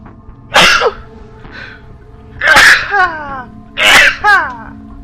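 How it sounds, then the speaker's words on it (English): Three loud sneezes, each a sharp burst, spaced apart with short pauses; the later ones are followed by brief breathy vocal trailing. "I had to sneeze."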